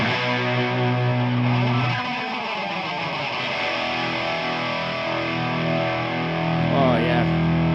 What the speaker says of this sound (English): 4 layers of guitars.